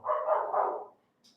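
A single dog bark or short yelping howl, close and fairly loud, lasting under a second and followed by near silence.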